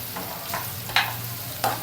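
Bitter gourd pieces frying in a pan over medium flame with turmeric and salt, a low steady sizzle broken by three or four short scraping stirs of a spoon.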